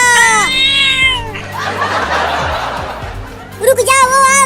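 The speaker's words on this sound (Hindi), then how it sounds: "ये बिल्ली अपनी दांतें दिखा रही है हमें काटने के लिए" Cartoon cat in a comedy animation: high, bending meows at the start, then a rough hiss, and further yowls at the end, loud and close.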